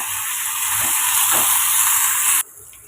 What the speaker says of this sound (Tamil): தக்காளிக்கு தேவையான அளவு உப்பு சேர்த்து வதக்கி எடுத்துக்கோங்க